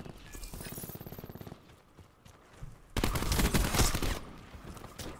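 Rapid gunfire in the Black Ops 4 beta multiplayer shooter: a quick burst of automatic shots, then a louder, dense volley of firing and impacts near the end.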